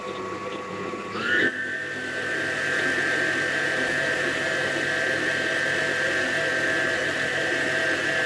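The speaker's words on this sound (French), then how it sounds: "Je vais maintenant mettre la machine dans ce mélange." An electric mixer whirs through a sugar and melted honey mixture, revving up to a high steady whine after a brief start and then running continuously and loudly to the end.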